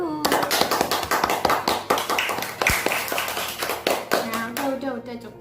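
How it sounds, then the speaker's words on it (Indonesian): Students in an elementary school math class clap their hands for a group about to present, a dense patter of claps that fills the room at close range with a few faint voices mixed in. "kita beri tepuk tangan terlebih dahulu"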